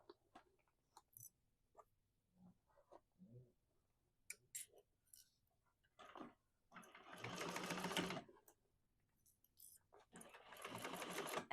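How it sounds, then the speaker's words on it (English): Sewing machine stitching across the box corners of a bag lining, two sustained buzzing runs of stitching after scattered quiet clicks and handling of fabric. "we're going to go ahead and sew across"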